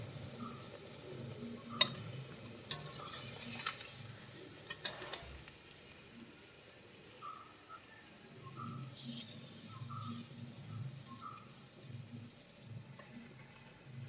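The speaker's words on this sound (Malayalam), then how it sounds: "നമുക്ക് ബാക്കിയുള്ള മീനും കൂടി ഇതുപോലെ വറുത്തെടുക്കാം." Tuna fish pieces deep-fry in oil, a soft crackling sizzle with scattered clicks and a few utensil taps, faint and close, without any voices.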